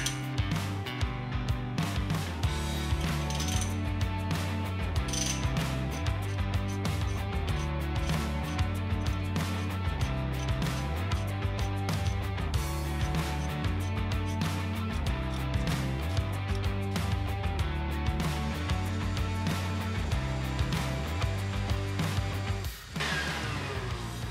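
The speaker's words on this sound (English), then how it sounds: "now we're going to start the reamer in the hole, and Paulie's going to watch" A powered reamer cuts a hole for a breather, with cutting fluid in use, producing a steady, loud mechanical drone with constant harmonic hum and a faint rhythmic pulse, uninterrupted throughout and without talk.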